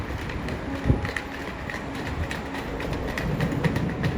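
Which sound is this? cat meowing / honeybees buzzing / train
train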